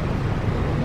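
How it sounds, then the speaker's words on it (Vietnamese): Gusting, swirling crosswind roars steadily at Tan Son Nhat airport as planes land, a dense close rush of broadband noise with no talk. "Chúng ta vừa nghe thấy tiếng gió cuộn."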